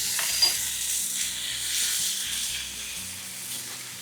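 Onions and medium-sized tomatoes fry in a pan for a coriander-tomato chutney, giving a close, steady hissing sizzle with occasional stirring scrapes and no talking.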